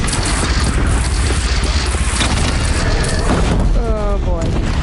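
A bridge in Horizon Zero Dawn is shot down and collapses, giving a loud, dense roar of booming crashes and rumbling debris that fills the scene without letup, with voices talking over the din near the end.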